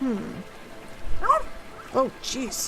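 A puppy in the rainy game Rainswept gives a few short high yips and barks over falling rain, and a person speaks briefly between them.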